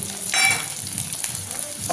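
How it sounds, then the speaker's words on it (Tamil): Onions and green chillies fry in a pan for a spicy egg paniyaram batter, giving a steady close sizzle with occasional scraping stirs and no voices. "இப்போ வெங்காயம் 4 பச்சை மிளகாய் போட்டுக்கலாம்"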